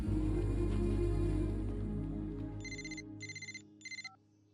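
A telephone rings in three short bursts of bright electronic tones near the end, following a stretch of low, swelling film-score music in a Telugu movie scene.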